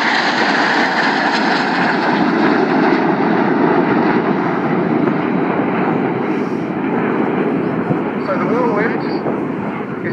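A loud, steady roar of Red Arrows jet engines fills the air without a break during a nine-aircraft formation display at Yeovilton Air Day, with a voice on the radio audible beneath it.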